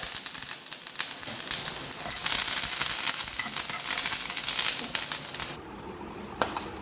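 Mustard seeds, dried red chilies and curry leaves sizzle and crackle in hot oil for a brinjal curry, a loud close spitting hiss that stops abruptly near the end.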